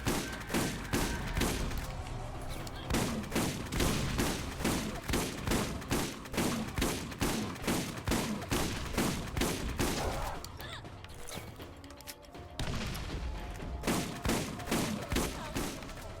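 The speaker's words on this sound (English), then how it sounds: "Yeah, I like this shotgun a lot." Rapid, repeated gunfire in the Borderlands video game, a dense run of loud shotgun blasts and shots fired in steady bursts for about sixteen seconds, with a short lull near the end before firing resumes.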